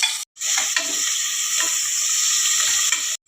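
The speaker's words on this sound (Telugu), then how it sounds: "ముందుగా పోపు పెట్టేసుకోండి. పోపు వేసుకోండి. ఆనియన్స్, టమోటా వేయించండి." Onions and tomato fry in a hot tempering of spices for a ridge gourd curry, giving a loud, steady sizzle that runs almost unbroken for about three seconds, with brief stirring clatter and short gaps at the start and end.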